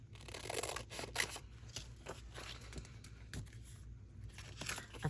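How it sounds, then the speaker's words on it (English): Paper pieces are cut down for a creative daily journal: faint, close snips and crinkles scattered irregularly over a quiet room hum. "If I cut these down"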